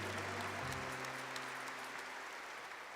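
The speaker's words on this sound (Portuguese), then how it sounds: "Vamos aplaudir essa verdade?" An audience at a Catholic church talk applauds steadily, a dense wash of clapping that holds at a constant level for several seconds with a low hum beneath.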